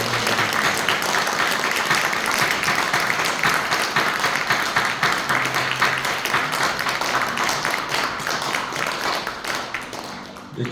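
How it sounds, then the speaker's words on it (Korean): A church congregation at a Sunday service applauds its teachers, a dense, loud, sustained round of clapping from many hands that carries on steadily before easing slightly at the end. "우리 큰 박수 부탁하고 들어가겠습니다."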